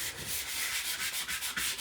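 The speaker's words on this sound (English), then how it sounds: "that's really the time to sand it smooth" A wooden step stool is sanded smooth between paint coats with quick back-and-forth rubbing strokes, a close, steady hiss pulsing in a regular rhythm with no voices.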